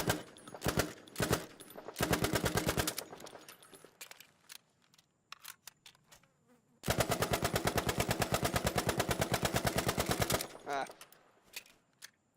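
Rapid automatic gunfire on a practice range in Battlefield V, a few short bursts then a long sustained stream of evenly spaced shots, loud and close with brief gaps between volleys.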